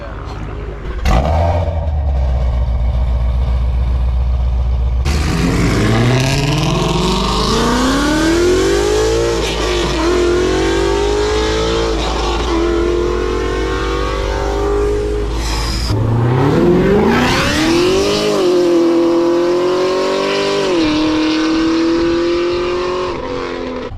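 A high-revving naturally aspirated 5.2-litre V8 engine, revving to 9,000 RPM, screams up through the gears in repeated rising pulls, loud and close, with brief lifts between shifts.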